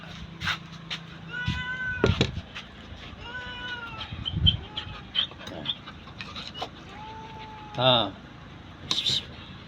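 Several cats meow repeatedly, close by, with varied pitched cries spaced irregularly over faint background noise.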